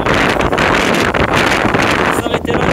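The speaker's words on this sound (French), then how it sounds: "Je vous laisse apprécier le bruit du vent." Strong wind buffets the microphone at about 3500 m altitude in the mountains, a loud continuous roar and rush with no break.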